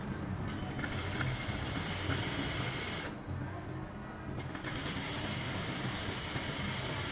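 A sewing machine stitches a kameez seam with a steady, dense mechanical whirr that stops briefly midway and then resumes at an even pace, with no talking.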